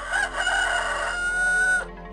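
A rooster in the 102 Dalmatians: Puppies to the Rescue video game crows once, loud and close, a drawn-out cock-a-doodle-doo over steady background music.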